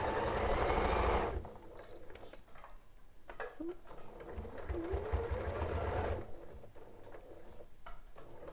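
A sewing machine stitches a quilt in two bursts of fast, whirring running with a quiet pause between them, close by, with soft handling noises and faint talk in the gaps.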